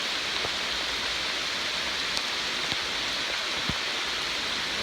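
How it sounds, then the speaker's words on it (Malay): Steady rain falls in the Bukit Timah nature reserve forest in Singapore, a dense, even hiss of drops on foliage with a few louder individual drips standing out, heard alone without voices. "So how? Enjoying the rain so far?"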